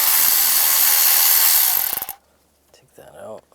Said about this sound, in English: Take those out. Use the same T20 socket.